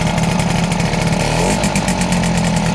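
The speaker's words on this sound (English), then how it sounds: "listen to that little soul machine engine there" A QJ Motor SVT 650X motorcycle engine idles close by, a loud steady throbbing with a slight dip and rise in pitch midway, and no talking over it.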